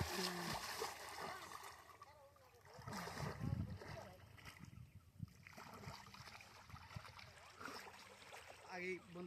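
A person splashes while swimming in a village pond, uneven watery churning and slaps close by, with voices talking over the splashing.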